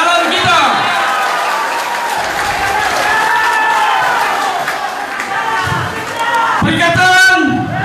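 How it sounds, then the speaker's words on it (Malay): A crowd at an outdoor political election rally for a Perikatan Nasional candidate in Petagas, Sabah, breaks into loud, sustained applause and cheering beneath an amplified speaker's voice, swelling again near the end. "Tepukan yang bergemuruh juga buat Datuk Haji Arsyid Seri, calon kita"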